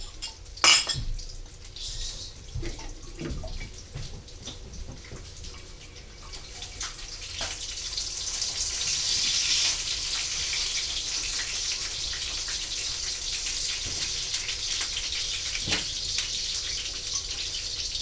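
Bowls clinking and clattering in a sink as they are soaked and washed, with running tap water building into a steady rush and occasional knocks of dishes and cutlery, close and without talk.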